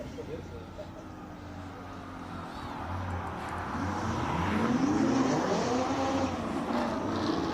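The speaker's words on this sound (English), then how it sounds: "Here is the beautiful Ferrari 488 GTB, Niven Maestri." A Ferrari 488 GTB races up a hillclimb course at a king-of-the-hill shootout, its engine note rising and sweeping upward as it approaches and grows louder. Commentators talk over the car throughout.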